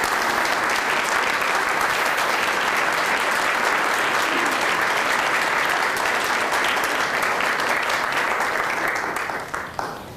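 An audience at a district council awards ceremony applauds volunteers with dense, sustained clapping for about ten seconds. It stays loud and even, then thins out at the very end.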